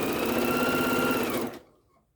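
A domestic sewing machine runs at steady speed stitching bias binding on a baby's hooded bath cape, a loud even whirring hum that stops abruptly near the end.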